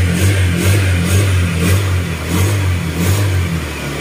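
A newly bought Click motorcycle engine runs after its radiator was refilled, idling close up with a steady rhythmic pulsing throb and even, repeating beats.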